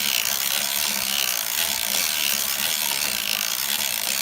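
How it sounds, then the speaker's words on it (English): A circular sock knitting machine being cranked gives off a steady, continuous ratcheting mechanical clatter with a faint low hum underneath. It stays close and even throughout, with no talking. "This is my sock machine."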